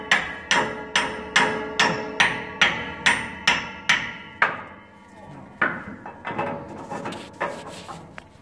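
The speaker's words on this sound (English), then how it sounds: "So they call that a slug wrench." Hammer blows on a slug wrench while working on a 1907 Lombard steam log hauler: a steady series of about nine sharp, ringing metallic strikes at close range, then a pause and a few more irregular hits.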